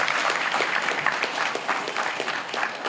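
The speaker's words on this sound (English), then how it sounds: "Round of applause, everybody," A wedding speech crowd applauds steadily, with dense, even clapping filling the space for a few seconds.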